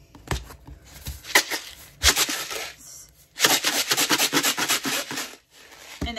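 Homemade shaker drum rattles in bursts as its loose contents bounce and scrape inside, with several loud shaking passages separated by short pauses, close and dry.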